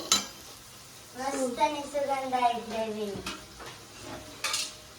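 Leftover gram-flour masala tipped into a hot pan for stuffed bitter gourd sizzles softly, with spoon-stirring and light pan clatter while someone talks over it.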